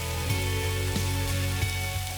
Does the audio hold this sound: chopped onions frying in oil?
yes